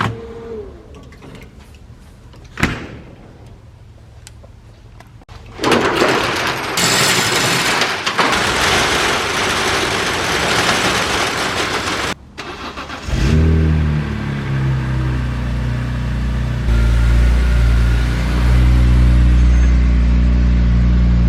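A BMW E46 M3 starts and drives, its engine building from a low idle to loud, sustained revving with strong low rumble as it accelerates close by, with no voices.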